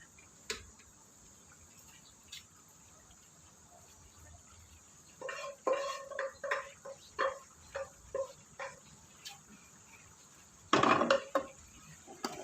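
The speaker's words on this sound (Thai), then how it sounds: "นี้เราจะเจียวกระเทียม เราจะต้องคอยคนนะคะ" Garlic fries in a pan for Thai nam prik kak moo while a utensil stirs and scrapes, giving clustered clinks and scrapes over a faint steady sizzle, with a louder clatter near the end.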